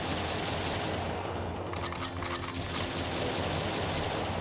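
Pistol gunfire in the shooter game Jack Styler, dense and continuous with clustered shots blending into a busy, fairly quiet wash of game action.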